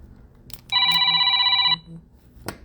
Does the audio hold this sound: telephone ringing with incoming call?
yes